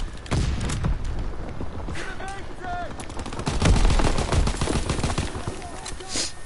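Gunfire in Call of Duty World War 2 gameplay: rapid bursts and single shots crack repeatedly, some automatic, layered with game effects and moderately loud throughout.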